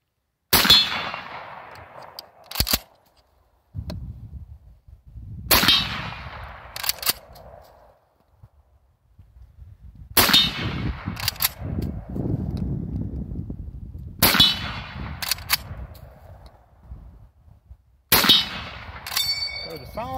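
A suppressed M1 Garand rifle fires single shots at intervals of several seconds, each a sharp crack followed by a metallic clang, with some rumbling handling noise and wind between shots.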